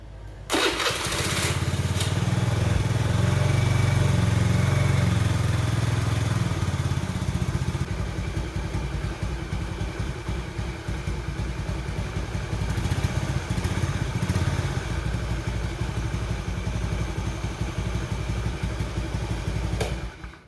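A carbureted Honda Beat motorcycle engine starts with a sharp burst, then settles into a steady, loud, close idle with a faint rattle that continues for about twenty seconds without talk.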